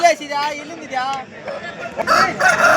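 A white rooster crows close by, a drawn-out call repeated, mixed with people talking nearby at a poultry market.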